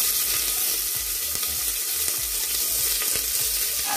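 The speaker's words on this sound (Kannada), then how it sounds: "ಈಗ ಇದು ಲೈಟ್ ಬ್ರೌನ್ ಕಲರ್ ಆಗೋವರೆಗೂ ನಾವು ಫ್ರೈ ಮಾಡ್ಕೊಳ್ಳೋಣ ನೋಡಿ" Sliced onions fry in hot oil in a pressure cooker for a country chicken curry, a steady, close sizzle with faint clinks of stirring and no voices.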